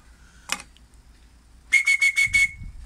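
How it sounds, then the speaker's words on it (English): A handmade wooden whistle with a slightly deeper pitch sounds one brief blast, then after a pause a run of five short, clear, evenly spaced toots, close by in a quiet room with no talking. "Slightly deeper whistle on that one"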